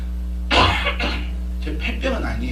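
A preacher with a weeks-long cough lets out one harsh, close cough during an afternoon church sermon, followed by throat clearing and murmured speech.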